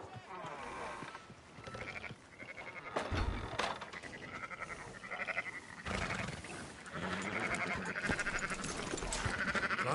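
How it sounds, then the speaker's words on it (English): Sheep bleat among livestock in a busy farm setting, with several wavering calls overlapping people talking and general noise, fairly loud and continuous. "Fine sheep."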